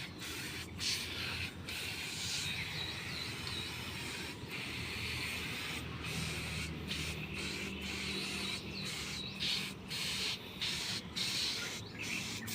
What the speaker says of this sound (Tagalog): Ang apat na gulong spray natin.